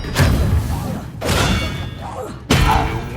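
Expelliarmus spell cast in the video game Hogwarts Legacy, heard as three loud whooshing magical bursts with thudding impacts, each rising sharply and then fading.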